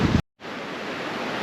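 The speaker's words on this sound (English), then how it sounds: "Pretty windy." Strong wind buffeting the microphone at the Pali Lookout clifftop on Oahu, a dense roaring rush broken by a brief dropout before the gusty roar returns, steady and close.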